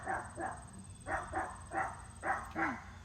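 Neighborhood dog barking nearby during outdoor cooking on a Char-Griller Gravity Fed 980 grill, a series of about seven moderately loud barks in uneven pairs against a steady background hum.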